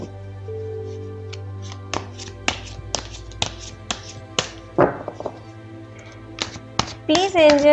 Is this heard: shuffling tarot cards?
yes